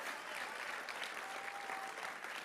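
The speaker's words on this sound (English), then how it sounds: "Give him a round of applause and all those that raised their hand." Steady, dense applause from an audience at a school violence prevention assembly, filling the whole stretch at an even level without a break.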